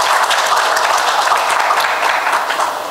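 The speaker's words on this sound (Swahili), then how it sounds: "Makofi kwa Mheshimiwa Rais tafadhali." An audience applauds the President at a sports-related public event, with a dense, steady clapping crowd that stays loud throughout and eases slightly at the end.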